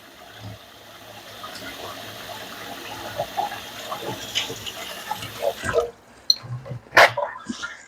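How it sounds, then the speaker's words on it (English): Water runs from a tap as a spoon is rinsed, a soft steady gush with faint clinks and small splashes, ending in a few sharper knocks near the close. "Let's clean the spoon here,"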